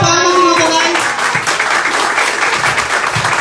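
Loud, sustained applause from an audience honouring education professionals, a thick wash of clapping hands close by, with a brief voice at the very start.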